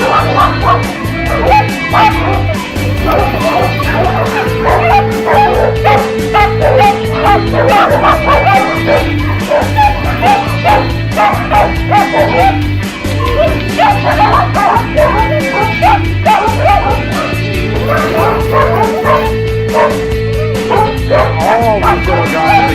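Small shelter dogs bark and yip nonstop at an animal shelter, a loud, dense chorus of overlapping sharp yaps with occasional whimpers, close by and steady throughout.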